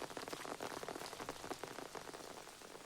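Steady rain falls in a movie scene, a dense patter of drops on surfaces, even and moderately soft throughout with no voices.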